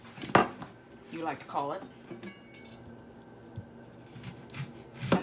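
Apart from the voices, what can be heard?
knife cutting a red onion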